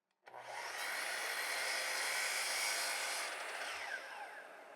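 Miter saw spinning up and gang cutting a thin skim off several wood ends at once, a steady loud whirring rasp that holds for a few seconds and then begins to wind down.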